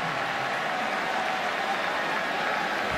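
Stadium crowd at a Texas versus Baylor college football game cheering after a big hit, a steady broad roar of many voices holding for the whole stretch at moderate distance, with no clear talk over it.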